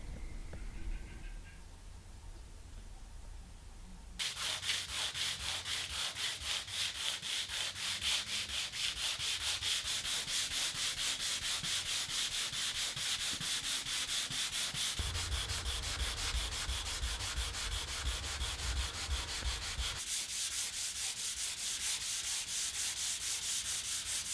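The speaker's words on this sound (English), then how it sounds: "For me, sanding back is the only way to get shellac smooth" Steady rhythmic sanding of a shellac finish on a wooden dining table, a close, dry scratchy rasp of quick back-and-forth strokes continuing with brief pauses between passes.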